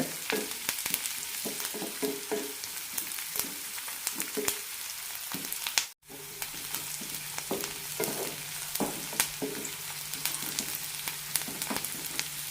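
Sliced onions, curry leaves and slit green chillies frying in oil in a pan: a continuous close sizzle with repeated scraping strokes of a spatula, briefly cut off midway before the crackling resumes.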